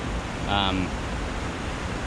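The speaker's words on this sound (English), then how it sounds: "It's actually quite tall and nice little waterfall." A small but tall waterfall in a mountain valley gives a steady broadband rush of falling water. A voice briefly rises over the constant roar.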